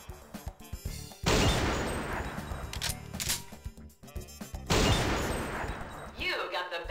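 Gunfire in the Silent Scope sniper video game sounds as a few loud, bursting shots with crashing impacts, separated by quieter game sounds and a player talking.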